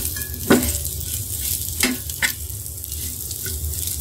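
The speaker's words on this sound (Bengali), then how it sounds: "এভাবে মাছ ভাজলে খুবই মজা হয় খেতে" Fish fries in a hot pan with oil, a continuous close sizzle broken by a few sharp scrapes and clinks of a spatula stirring, no voices.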